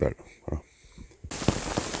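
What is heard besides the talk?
heavy rain falling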